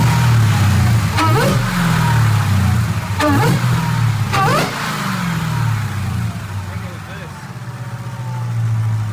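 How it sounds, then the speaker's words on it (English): A Hellcat-engined MPV revs three times in quick succession, each throttle blip rising and falling sharply over a steady low engine drone, with the engine idling loudly between and after the revs. "See if she'll rev up."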